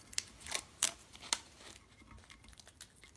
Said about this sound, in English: And then we can remove our app tape.